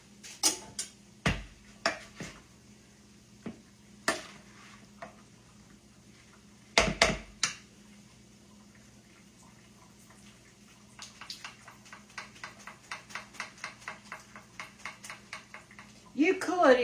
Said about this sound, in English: I think I'm going to get a spoon and stir it just a little bit to make sure